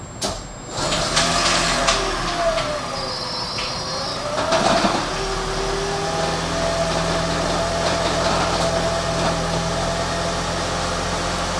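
A rebuilt wrecked Toyota Prius running after start-up, a steady close engine drone with a rattling, knocking vibration underneath, plus a few brief clicks early on and no talk.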